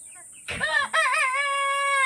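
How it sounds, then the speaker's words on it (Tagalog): A Silkie rooster crows once, close and loud, with a rough start breaking into a long, drawn-out call. "Tumitalaok na yung silky natin guys."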